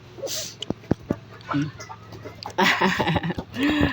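Chickens cluck in short bursts at close range, with scattered clicks and rustling and a busier stretch of fowl noise toward the end.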